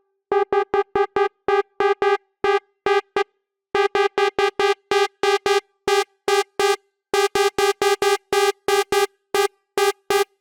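A heavily detuned techno synth lead remaking a track plays rapid staccato buzzy notes in rhythmic bursts with short gaps, bright and loud throughout, no voices.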